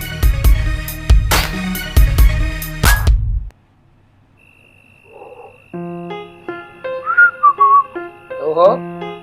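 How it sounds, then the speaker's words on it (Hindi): A young man whistles a short tune through his lips, clear rising and falling notes following a stretch of loud voices and a brief quiet pause. "मुंह से सीटी"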